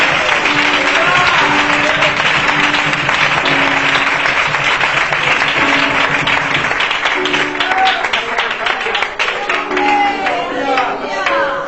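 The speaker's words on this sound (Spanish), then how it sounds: "Un aplauso para él, por favor." Applause for a speaker during a church service, a loud, sustained clatter of many hands running steadily throughout, with faint voices and a low tone beneath.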